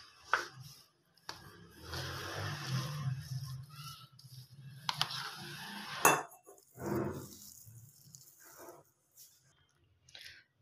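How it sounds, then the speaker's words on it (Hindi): Spiced potato burger filling and cabbage are mixed in a bowl, making soft intermittent squishing and scraping with a few utensil clinks against the bowl, some quiet gaps between strokes. "अब हम इसमें थोड़ी सी बंद गोभी ऐड करेंगे अब अगेन इसको मिक्स करेंगे"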